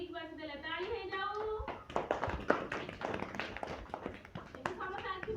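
Children clapping their hands in a classroom activity, a run of quick, uneven claps near the microphone lasting a few seconds, following an adult speaking and with some voices over the clapping.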